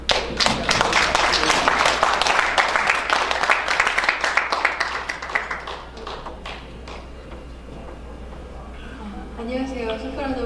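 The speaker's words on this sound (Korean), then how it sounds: "큰 박수로 맞이해주세요." An audience gives warm applause at a year-end concert as a soprano and a violinist are welcomed onstage. Dense clapping runs steadily for about six seconds, then thins out and fades while voices murmur underneath.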